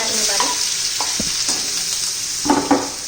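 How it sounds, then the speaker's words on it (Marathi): Finely chopped onion sautés in a hot tempering of oil, a loud close sizzle broken by a few spatula scrapes and stirs, with no talking. "कांदा त्याला तांबूस रंगावर येईपर्यंत परतून घेणार आहोत आपण"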